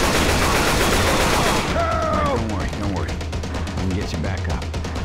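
Gunfire in Left 4 Dead 2 goes off in a rapid, continuous volley of shots under in-game effects and a shout, with sustained loud crackling throughout.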